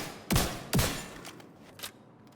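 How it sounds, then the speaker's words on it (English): Scorpio shotgun in The Division 2 fires at a target 5 meters away: two loud, sharp blasts about half a second apart, then a fainter third shot after a pause, each with a short decaying tail. "I'll show you the Scorpio. 3 shots."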